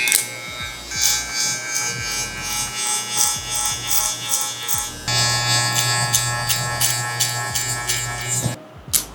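Electric hair clipper fitted with a 1.5 guard buzzes steadily while cutting hair, a close, continuous motor whine with rhythmic dips as strokes pass through the hair, pitch shifting slightly midway before the motor cuts off at the end.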